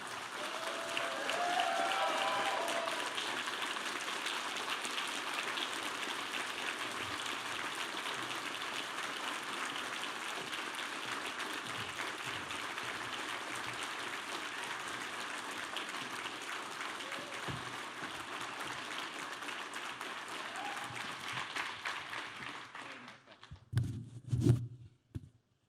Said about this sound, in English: give an even bigger round of applause to Mr.